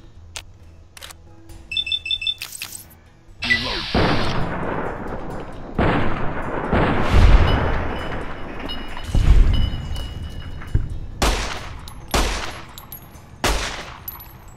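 Gunfire in the video game Fallout New Vegas: a series of sharp, loud single shots spaced a second or so apart, each with a short booming tail, preceded by some clicking and electronic game noises.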